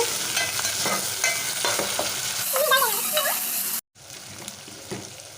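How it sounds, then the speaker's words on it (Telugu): Tomato and fresh ginger garlic paste frying in a pan, a steady sizzle broken by scraping stirs and a squeaky spatula scrape, cutting out briefly before the sizzling resumes. "ఇప్పుడు ఇందులోకి ఫ్రెష్గా దంచుకున్న వన్ టేబుల్ స్పూన్ అల్లం వెల్లుల్లి పేస్ట్ వేసుకొని ఫ్రై చేసుకోవాలి"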